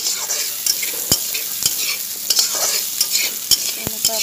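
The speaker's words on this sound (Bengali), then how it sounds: "এইখানে দি পেলায় আকো দুটা মিক্স করে এনেকৈ লড়াই লড়াই অকনমান ভাজি লম" Fried potatoes sizzle steadily in a pan while a spatula stirs them, with sharp intermittent scrapes and knocks against the metal, close and alone without voices.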